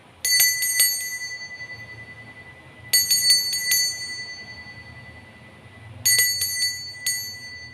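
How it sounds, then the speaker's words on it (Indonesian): Three bursts of rapid bright bell dings, each a quick cluster of rings, separated by a few seconds of quiet. "Kita akan memulai dengan ditandai lonceng berbunyi."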